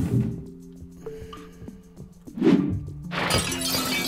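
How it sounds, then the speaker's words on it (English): A lamp in Quantum Conundrum shatters with a bright glassy crash, preceded by a dull thunk and followed by a sustained spray of breaking debris. "I smashed the lamp"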